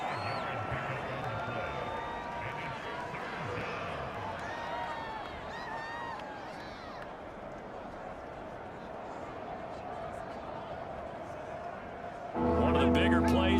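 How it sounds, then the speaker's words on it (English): A football stadium crowd cheers and roars ahead of a big third down in an NFL game, a broad, distant wash of noise running steadily under a commentator's talk. "The crowd getting into it as we come up on a big 3rd down."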